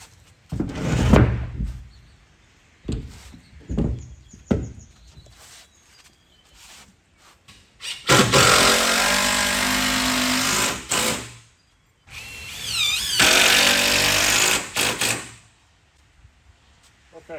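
A power driver sinks screws into smokehouse wood in two long whirring runs of a few seconds each, loud and close, with clicks and knocks of handling before them.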